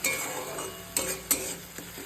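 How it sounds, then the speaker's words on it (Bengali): A paste of cumin, garlic and dried chilli frying in a pan for a Bengali katla fish and potato curry, a steady close hiss and sizzle broken by a few sharp spatula knocks, with no voices. "জিরে, রসুন আর শুকনো লঙ্কার একটা পেস্ট বানিয়ে রেখেছিলাম, সেটা এখানে পরিমাণ মতো দিয়ে দিচ্ছি।"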